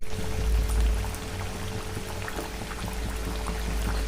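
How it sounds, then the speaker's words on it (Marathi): Pieces of wheat dough sizzle in hot oil, frying for a traditional sweet; a steady, close crackling hiss with no talk over it. "आता आपलं छान तेल गरम झाले. आपण कापण्या टाकून घेऊया."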